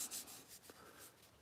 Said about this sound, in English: I'm not done sanding. This is just a rough.